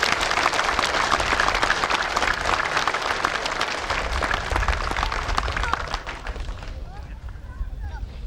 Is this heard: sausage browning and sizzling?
no